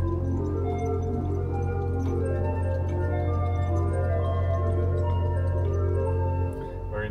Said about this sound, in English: a flute, 8 foot,